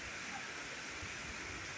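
Wind-driven rain falls over a rooftop vegetable garden with tomatoes and papaya, a steady soft hiss with no distinct drops, faint and even throughout.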